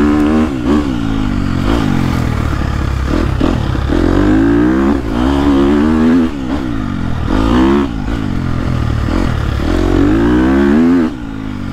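A KTM 250SXF dirt bike engine revs hard on frozen, slippery trails, its pitch climbing and falling repeatedly in close, loud throttle bursts with some clattering underneath.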